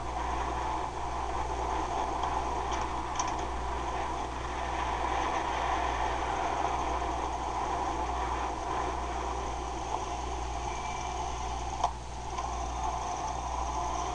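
A Yamaha V-Star 1100 motorcycle idling at a steady, even rumble for the whole stretch, with no revving and a single faint tick near the end.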